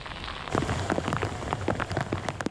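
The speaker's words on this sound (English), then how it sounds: "Torrential rain and whipping wind" Torrential rain pours steadily onto surfaces during a flood along the Colorado River in Fayette County, a dense close patter with scattered heavier drops throughout.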